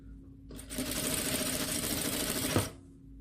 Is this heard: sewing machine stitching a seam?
yes